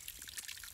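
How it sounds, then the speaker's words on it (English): Gentle water trickles and dribbles in a soft, continuous field recording, close and low in level with faint bubbling detail and no voices. "Sound of some gentle water"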